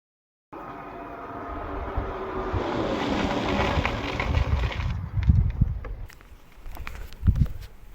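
A Bajaj Chetak scooter with a front disc brake and rear drum brake rides at about 40 km/h: steady road and wind rush that rises, then breaks into rougher, uneven bumps and rumbles as it brakes and slows.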